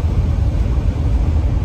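Steady low rumble of a car engine and road noise heard from inside a van during a ride, loud and close, unchanging with no voices.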